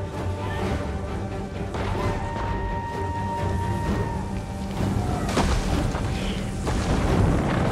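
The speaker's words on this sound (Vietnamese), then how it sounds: "pháo này bắn cũng ác nhỉ" Artillery cannons fire during a siege battle in Total War Attila, a steady loud roar of booming impacts and crashing debris layered over continuous battlefield din.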